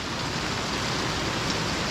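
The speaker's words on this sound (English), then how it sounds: "Looks like we're gonna get a little bit of a downpour." A steady rain downpour hisses evenly around an RV campsite, dense and continuous with no voices.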